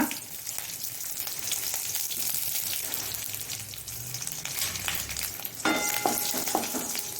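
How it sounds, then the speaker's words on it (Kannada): Curry leaves hit hot oil with spluttering chopped garlic for a Mangalore-style jowar masala dosa filling, giving a loud, continuous crackling sizzle up close that grows busier near the end. "ಸಿಡಿಯುವಾಗ ಈಗ ನಾವು ಕರಿಬೇವಿನ ಸೊಪ್ಪನ್ನು ಹಾಕೊಳ್ಳೋಣ."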